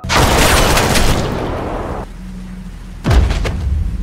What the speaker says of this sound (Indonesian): Tiba-tiba terdengar tembakan.